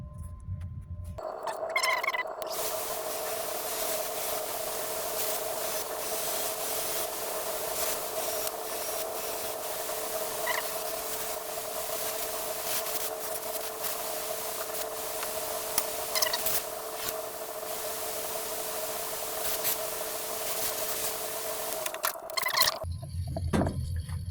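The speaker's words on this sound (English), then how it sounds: "I have to wire wheel these screws." Wire wheel scrubbing rust off ceiling fan screws, a steady grinding whir with a constant tonal hum lasting about twenty seconds, close and fairly loud, starting and stopping abruptly.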